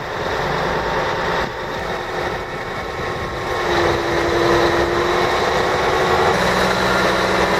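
A Cat 992C wheel loader's diesel engine runs in freezing cold, a steady, loud mechanical drone with a tonal whine that swells slightly partway through, heard alone.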